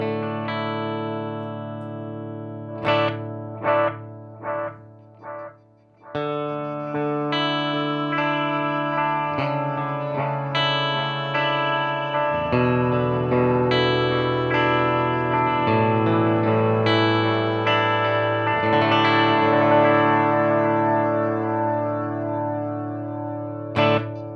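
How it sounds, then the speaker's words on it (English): An electric guitar plays picked notes and then sustained chords through a quarter-note timeline delay pedal, each repeated by a rhythmic echo that trails behind the playing in a wash of effects. "So that is the timeline delay."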